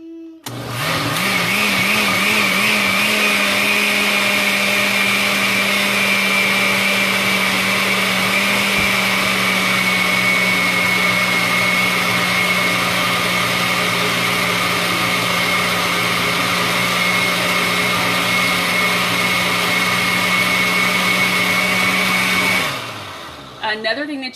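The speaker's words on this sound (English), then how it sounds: "So I'm going to turn the blender on a higher speed." A blender runs on high speed, blending soaked sea moss and water into a thick gel, a loud steady whirring motor drone that holds for about twenty seconds and then winds down and stops.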